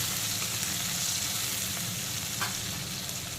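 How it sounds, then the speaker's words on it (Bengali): Two cut dried red chillies fry in hot oil, giving a continuous loud sizzle and crackle up close with light stirring and no talking. "এখন কিন্তু শুকনো লঙ্কাটা হালকা কালো করে ভেজে নিয়েছি।"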